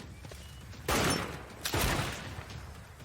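Two loud broadband bursts of gunfire in Civilization 6, the first near 0.9 s and the second near 1.7 s, each fading slowly over a steady background hum.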